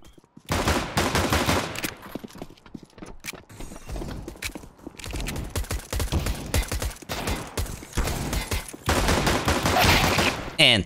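Dual Beretta pistols fire in CS:GO in rapid clusters of sharp, close pops separated by brief pauses, with bursts that grow denser toward the end.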